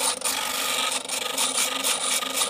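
A Sturm BG6017S bench drill bit sharpener with 70 W motor grinds an old drill bit, giving a steady close-up rasping, filing-like scrape with brief dips as the bit is turned in the guide hole.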